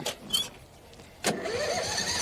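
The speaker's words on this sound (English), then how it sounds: "see how long it takes before it can get that engine started again" A grass-cutting machine at a Devon mill site makes a couple of short cranking bursts, then its engine catches and runs with a steady mid-range drone.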